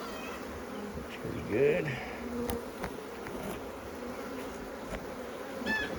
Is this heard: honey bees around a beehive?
yes